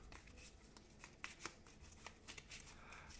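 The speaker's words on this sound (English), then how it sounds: "we take our big deck of regular fish, shuffle these up" A big deck of fish cards from a tabletop board game is shuffled close up, its dense papery riffles and soft slaps coming in quick bursts with a few sharper snaps and no voices.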